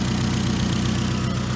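A 2002 Toyota Camry engine idles close by with a steady, even low hum and rhythmic pulsing and no pauses.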